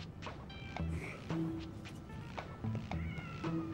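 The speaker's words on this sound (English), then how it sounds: "I heard a cat." A cat meows several times in a video game, the calls sounding over a steady game soundscape with music-like tones and tonal effects.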